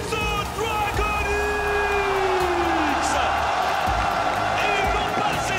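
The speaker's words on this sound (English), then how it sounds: "S'il vous plaît, un tonnerre d'applaudissements pour les Kings of DragonX!" A large esports arena crowd cheering, whooping and applauding for the Kings of DragonX team at the Mid-Season Invitational, a loud, continuous roar with rising yells and an announcer speaking over it.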